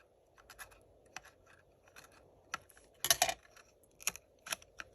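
Scissors snip yarn on a crocheted amigurumi Mario Kart car, a few quiet close clicks and a brief cluster of sharp cuts in a faint, quiet room.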